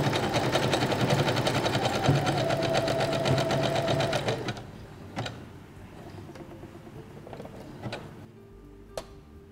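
A Singer sewing machine stitches appliqué onto lace and linen fabric, running loud and steady for about four seconds, then stopping, leaving quieter clicks and handling noises.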